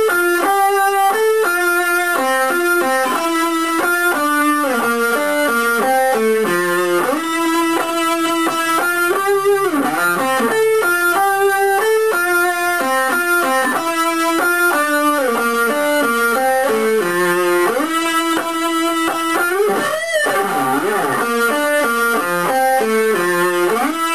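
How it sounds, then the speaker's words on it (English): An electric guitar with distortion and effects plays the solo from a song, a loud, sustained run of melodic notes and bends that continues without pause or talk. "so now we're going into the fun part, the solo. And the solo sounds something like this."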